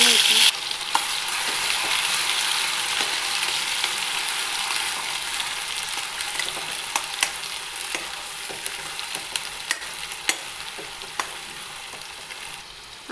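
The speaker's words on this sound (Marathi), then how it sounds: "आपलं तेल आता गरम झालेलं आहे. आता आपण त्यामध्ये तेजपान टाकून घेऊ." Bay leaf and masala fry in hot oil for a drumstick pod masala bhaji, giving a steady, close sizzle with scattered sharp pops and clicks from stirring throughout, and no voices.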